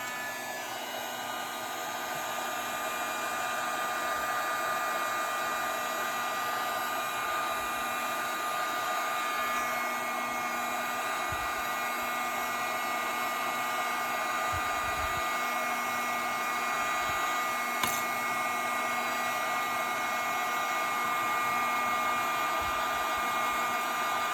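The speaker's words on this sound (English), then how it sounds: "So I'll take my heat gun and I start heating it up." A heat gun blows with a constant, loud airy roar for over twenty seconds while heating a piece of shrink plastic, a steady whir with a faint tonal hum.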